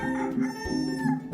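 A rooster crows close and loud, a single stretched cock-a-doodle-doo with a bright, rising and falling harmonic tone lasting over a second.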